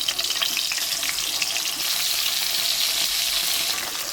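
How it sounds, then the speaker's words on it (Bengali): Koi fish fry in mustard oil with a loud, dense, continuous hiss of sizzling, close and steady throughout, without voices. "এই তেলেই আমি মাছ ভেজে নিচ্ছি।"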